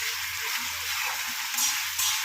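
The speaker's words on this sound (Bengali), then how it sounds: "এই দিয়ে মশলাটাকে ভালো করে কষিয়ে নিচ্ছি" Spice paste of tomato, onion, ginger paste, cumin, turmeric and chilli powder sautéing in a pan, a soft continuous sizzle with faint stirring, heard alone and close.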